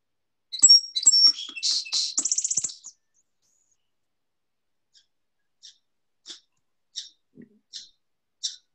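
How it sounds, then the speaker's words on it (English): A song sparrow sings a bright, rapid burst of notes and trills up close, then falls quiet before a spaced series of short, softer chips. "The song sparrow will just pour forth concerts"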